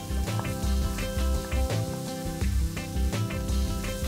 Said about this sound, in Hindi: मैरिनेटेड चिकन, इसे मैं मसाले में डाल दूंगी।